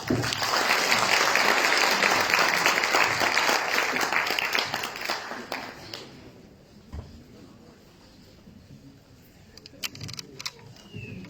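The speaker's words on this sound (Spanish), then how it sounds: "Damos la bienvenida y con fuertes aplausos al maestro Rafael Bautista Segales." Loud audience applause at a book presentation at a university in El Alto, Bolivia, dense clapping from a crowd that fades over several seconds and trails off into a quiet room with a few stray claps.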